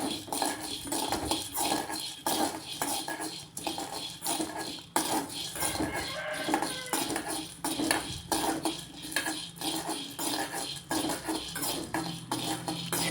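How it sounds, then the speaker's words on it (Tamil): A metal spatula scrapes and clinks against a pan as okra gravy ingredients are roasted and stirred, giving a steady, busy rattle of close metallic taps with no talking. "இது மட்டும் கொஞ்சம் டைம் எடுத்து நல்லா ரோஸ்ட் பண்ணிக்கோங்க."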